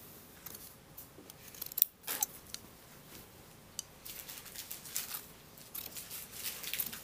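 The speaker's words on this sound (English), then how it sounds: "I'm grading the under collar." Scissors trimming and grading the under collar of a tailored jacket, quiet close snips and crisp cuts in irregular bursts, with soft handling of the fabric between cuts.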